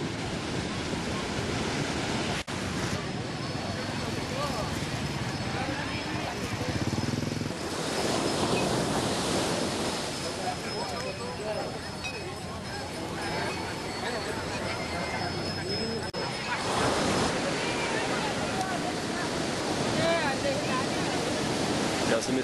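Ocean waves break steadily on a beach in Bali, a loud continuous wash of surf with wind noise across the microphone.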